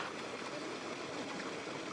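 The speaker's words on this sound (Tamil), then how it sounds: "போர் தண்ணி, ஃப்ரெஷ்ஷான தண்ணி இப்படி ஓடுற போக்கில் ஓடி அது." Fresh bore water runs in a steady, close rushing flow, a continuous even gush with no breaks and no voices over it.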